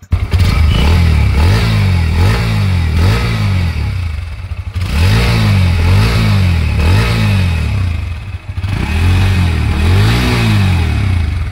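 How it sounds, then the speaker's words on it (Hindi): A 2023 Bajaj Pulsar NS160 motorcycle with E20 fuel compatibility idles at about 1500 RPM, its exhaust putting out a loud, close, steady low thrumming note with a pulsing, throbbing rhythm that continues without speech. "सो पल्सर NS160 का एग्जॉस्ट नोट भी देख सकते हैं। सो अभी RPM है एट अराउंड 1500 एंड 1500 आइडलिंग पे ये साउंड है कुछ।"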